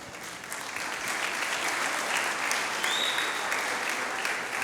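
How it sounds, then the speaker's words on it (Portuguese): Congregation at a church Sunday service clapping, a continuous even wash of many hands throughout, moderately loud and filling the room. "Bata palmas pela sua palavra"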